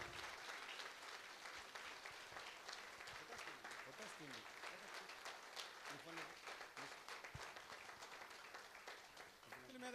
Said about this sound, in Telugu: దుర్గా క్లాప్స్.